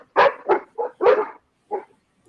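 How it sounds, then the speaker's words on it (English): Dogs bark in a quick burst of several sharp, close barks, followed by a couple of softer, spaced barks. "Dogs."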